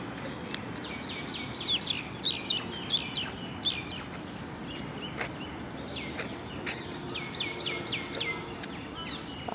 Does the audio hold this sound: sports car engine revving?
no